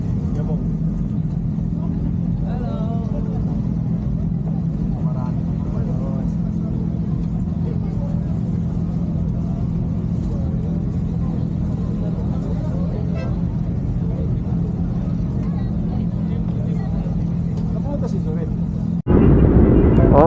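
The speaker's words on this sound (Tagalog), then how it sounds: "Painit tayo ng makina." Motorcycle engines idle and warm up before a ride send-off, forming a steady low rumble that holds throughout before a sudden louder surge near the end.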